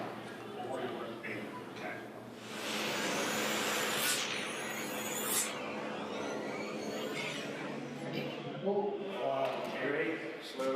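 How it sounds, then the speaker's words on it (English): A small 1/32 scale slot car runs on a large 8-lane wooden track, with a rising electric whine in the middle of the clip amid a noisy room and background voices. "let's take one of these little 1/32 cars out and show you how it runs on the big 8-lane wood tracks"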